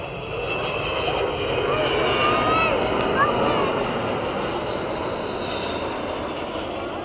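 An Avro Vulcan XH558 jet bomber with Bristol Olympus engines flies at the East Fortune airshow, producing a broad, steady distant roar that swells slightly and holds, with an announcer's voice over the top.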